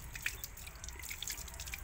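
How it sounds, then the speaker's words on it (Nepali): Water drips faintly from a tap in a quiet room, a few soft, separate drops at irregular intervals against low background hum. "लु त्यो धारा बन्द गर्नु"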